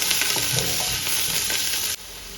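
Coriander leaves and mint sizzle and get stirred in a hot pan while homemade chicken biryani is being cooked, giving a loud, continuous fry with soft scraping strokes, then an abrupt drop to a quieter hiss near the end.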